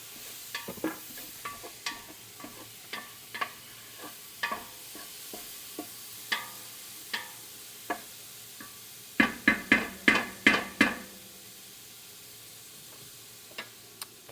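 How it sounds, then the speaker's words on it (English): A spoon stirs a pot of sauce with sliced mushrooms: soft, sparse knocks and scrapes against the pot, then a quick cluster of louder clacking strokes, over a low simmer. "We're just going to give that a stir."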